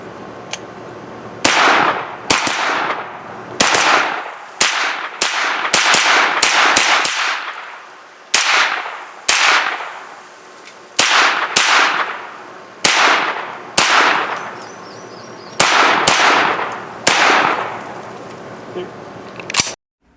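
A Colt 9mm AR-style pistol-caliber carbine fires about a dozen sharp, snappy reports in an uneven string, each a crisp crack with a short ringing tail, close and loud with brief gaps between shots.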